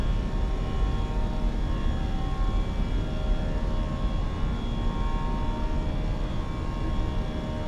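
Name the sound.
BA A320 takeoff engines in flight simulator video game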